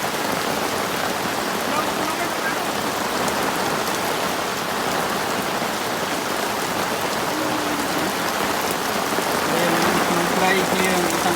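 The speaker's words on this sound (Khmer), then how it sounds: "ក្រៅមេឃកំពុងតែភ្លៀងគឺខ្លាំងមែនទែន" Heavy rain pouring in a forest, a dense, steady roar of drops on surfaces lasting throughout with no break, loud and close.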